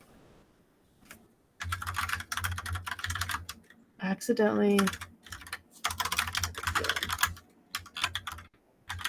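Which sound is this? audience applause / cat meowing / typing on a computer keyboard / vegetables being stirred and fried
typing on a computer keyboard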